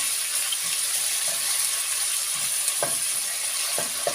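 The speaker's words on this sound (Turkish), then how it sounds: "Önce havuçları koyuyoruz. Bunun sarı suyunu çıkarmamız lazım. Güzel bir sarı arama vermesi lazım. O yüzden önce bunları kavruyoruz." Carrots sautéing in oil in a pan, a steady soft sizzle throughout with a few faint scrapes and clinks of stirring, close and without talk.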